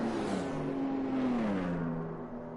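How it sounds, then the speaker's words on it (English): Formula One car in the F1 2021 racing video game, engine droning at pit lane limiter speed with a steady tone that dips slightly in pitch, continuous and alone. "it's what the engine sounds like under pit lane speed"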